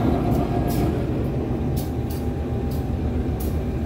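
A steady low rumble of the Cikuray passenger train running along the track, heard from inside, with faint periodic clicks and no voices.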